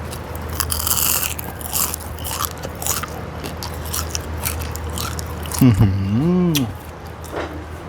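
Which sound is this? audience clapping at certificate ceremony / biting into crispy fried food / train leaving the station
biting into crispy fried food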